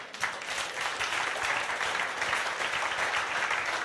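An audience clapping at a speech event: dense, steady applause from many hands that fills the whole stretch at moderate loudness, with no voices over it.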